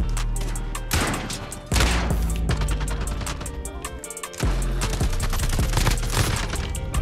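Rapid bursts of automatic gunfire from a gold SA87 light machine gun in Modern Warfare, loud and close, with sharp cracks and several sustained volleys broken by brief gaps and a short lull near the middle.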